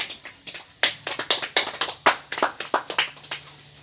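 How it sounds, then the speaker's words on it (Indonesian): A few people in a primary school classroom clap unevenly, a scattered series of close, crisp claps over a faint background hum, with no talk. "tepuk tangan untuk Aira ya"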